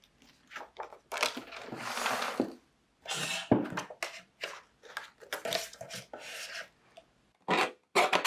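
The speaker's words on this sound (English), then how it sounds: "Then I'm cutting my photos. And I'm using this Tim Holtz trimmer." A Tim Holtz paper trimmer cuts photos, giving close, faint bursts of scraping and rasping as the blade slides through, with short pauses between passes.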